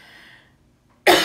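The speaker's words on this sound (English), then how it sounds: "Here comes that cough again." One sudden, loud, close cough bursts out near the end after a brief quiet pause, preceded by a faint breathy trailing sound.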